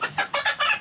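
A chicken clucks close by in four or five short, raspy bursts in quick succession, loud and alone.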